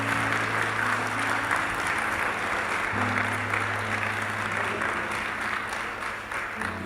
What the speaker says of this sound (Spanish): Fuerte ese aplauso a él